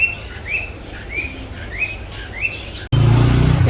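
Caged birds at a village market in Bangladesh, a series of five evenly spaced clear chirps over a low hum of traffic, then a sudden louder burst of broadband noise at the end.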